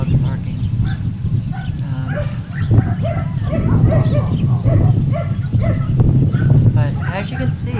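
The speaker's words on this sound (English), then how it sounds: "and those are the dogs barking." Several dogs at a kennel bark repeatedly from a short distance, with yips and whines mixed in, while someone speaks over them.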